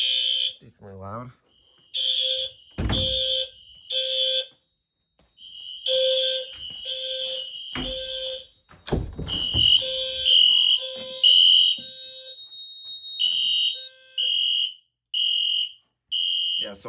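Loud electronic fire alarm on a conventional zone detector system blaring in repeated pulsed beeps, with bursts of tones and a few clattering noises, continuing steadily to the end.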